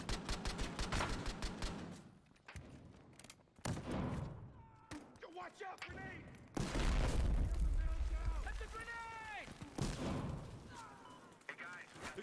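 Grenade blasts and gunfire in the video game Battlefield Hardline, with bursts of shots and heavy booms throughout, loudest toward the middle, while voices talk over the fighting.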